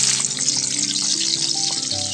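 Chopped garlic hits hot soybean oil in a wok and sizzles steadily, a loud, close, continuous hiss with no voices.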